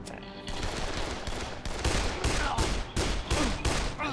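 Bursts of rapid gunfire sound in the Dead Island video game, with loud repeated shots and short gaps between volleys across the whole stretch.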